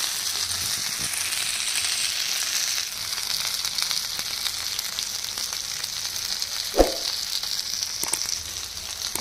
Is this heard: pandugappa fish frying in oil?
yes